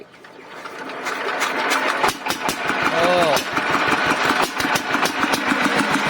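A Siam NC131 engine, parked for ten years, cranks and sputters, rising from quiet into a rough, uneven mechanical chugging with sharp irregular knocks, while a nearby voice speaks over it.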